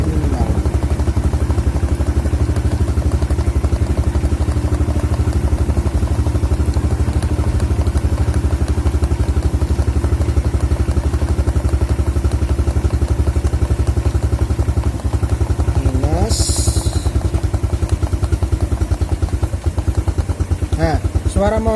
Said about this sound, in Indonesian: suara motor akan semakin merendah dia